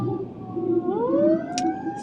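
Emergency siren wailing, its pitch sweeping upward through a steady rising tone over a continuous low background, fairly loud and clear with no talk.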